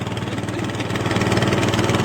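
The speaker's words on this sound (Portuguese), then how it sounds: "E aqui eu tô no motor." A fishing boat's motor runs steadily out on the water in strong wind, a continuous droning engine hum with wind buffeting, growing slightly louder partway through, with no voices.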